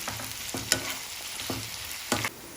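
Potato and onion fry in hot oil, sizzling steadily as a spoon stirs them, with several scraping clinks against the pan at uneven intervals, close and moderately loud, with no talking.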